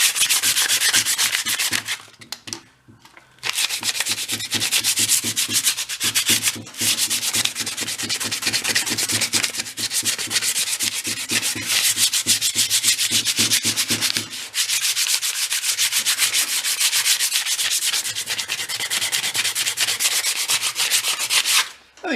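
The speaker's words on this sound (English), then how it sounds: "let's go scuff that up real quick" Rapid back-and-forth sanding scuffs a metal part on an engine-powered wagon, a dense rhythmic rasp that runs almost continuously, close and loud, with a couple of short pauses.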